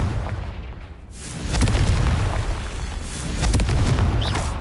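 The Confringo spell in Hogwarts Legacy goes off as booming fiery blasts: a rumbling explosion builds after a short lull, then a second heavy burst follows, loud and full with no talking.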